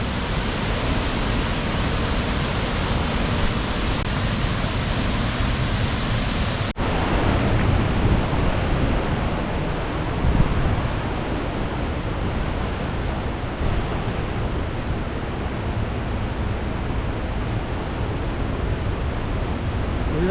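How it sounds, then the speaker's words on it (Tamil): Seethargundu waterfall in Kollengode near Palakkad, water plunging in a loud, continuous broadband roar that stays steady and close throughout, with no voices. "ஃபால்ஸ்லேருந்து வர்றது இந்த அங்கே தண்ணி விழுகுது. இதான் சீதாரங்குண்டு ஃபால்ஸ்."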